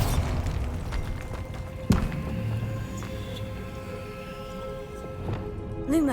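Bombarda explosion spell in Hogwarts Legacy gives a sharp booming thud amid steady game ambience, followed by lighter thumps and tonal effects, with another swell near the end.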